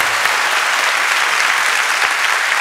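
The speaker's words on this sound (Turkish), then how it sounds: "Alkışlıyoruz. Bravo Ersin." A studio audience at a live comedy sketch show bursts into loud, sustained applause, a thick, even roar of clapping with scattered sharper claps standing out.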